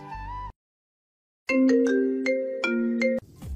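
A phone ringtone plays after the call is placed, a loud repeating melodic tone pattern following a brief dial sound and silence, cut off abruptly at the end.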